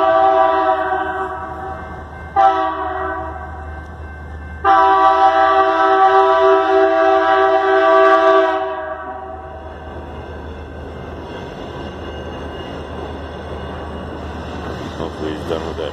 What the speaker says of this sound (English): when this train goes by, you'll hear why, because it's loud as can be